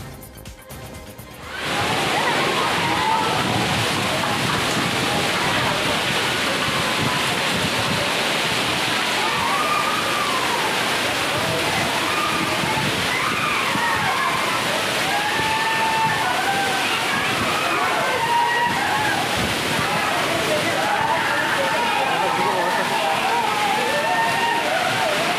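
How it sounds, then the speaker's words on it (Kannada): Heavy rain driven by stormy wind in Kaladagi village makes a loud, unbroken roar of pouring and rushing water that starts abruptly and holds steady throughout. "ಬಿರುಗಾಳಿ ಸಮೇತ ಸುರಿದ ಭಾರಿ ಮಳೆಗೆ ಕಲಾದಗಿ ಗ್ರಾಮದ ಜನರು ಆತಂಕಗೊಂಡರು."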